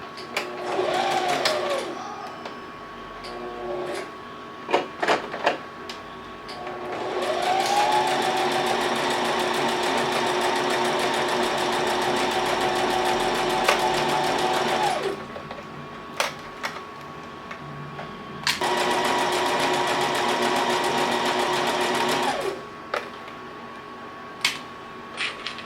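A sewing machine stitches a rib knit long sleeve top in three long whirring runs separated by pauses filled with small clicks and handling sounds, steady and close, with no talking.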